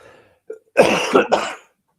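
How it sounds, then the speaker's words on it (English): A single person coughs: a short catch, then a harsh, rough burst of two or three hacking coughs close to the listener, followed by silence. "I've got a bit of a cough"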